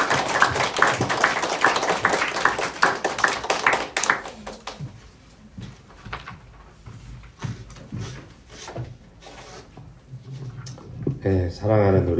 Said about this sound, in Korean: 목사님 오랜만에 뵙는데 우리 나오실 때 사랑을 담아 박수 한번 하겠습니다